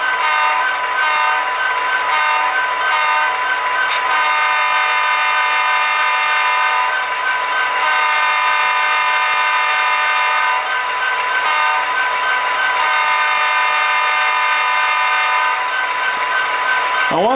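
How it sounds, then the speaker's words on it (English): An Athearn Genesis BNSF SD60M model locomotive with Tsunami sound sounds its multi-chime horn, a long sustained blast followed by shorter ones, loud and close, over faint engine rumble. "That's a long horn, short horn."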